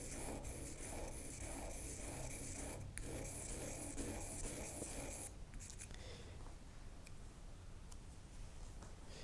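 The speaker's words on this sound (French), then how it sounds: "la pointe du burin s'émousse et il faut régulièrement l'affûter" A copper engraver's burin is being sharpened, its tip rubbed back and forth in a soft, close, continuous rasping scrape that thins and turns quieter toward the end.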